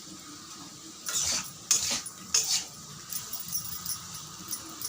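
A metal lid is set over a pan of a garlic dish, giving a few close clinks and scrapes, then lighter rattles as it settles; no talking.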